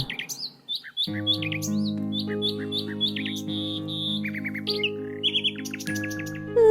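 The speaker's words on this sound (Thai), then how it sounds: "เจ้านกน้อยน่ารักเริ่มร้องเพลงไพเราะ" A small bird chirps and trills in quick, bright bursts over soft sustained music, the calls close and lively throughout.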